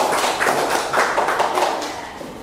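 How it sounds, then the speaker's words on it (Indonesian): A classroom of students claps for a presenting group in a short, dense burst of hand claps that stays fairly even and close before tapering off slightly. "Beri tepuk tangan untuk kelompok 3."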